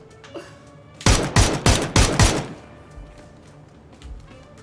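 Burst of gunfire from the PUBG battle royale game at a PGS2 esports match: five or six loud, closely spaced shots in quick succession, then quieter ambient game noise with a couple of soft thumps.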